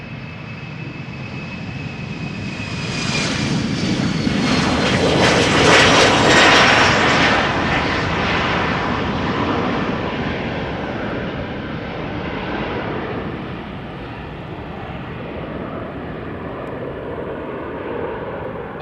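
A KLM Embraer 190 jet airliner at Amsterdam Schiphol roars past, its engine noise swelling to a loud peak and then fading into a long rumbling wash as it moves away, with no talk over it.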